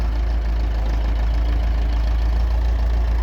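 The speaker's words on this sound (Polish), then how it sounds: "Traktor odpalony proces robienia iglo." Ursus tractor engine idling steadily in winter snow, a loud, constant low rumble with even mechanical chatter and no change in pace, heard alone.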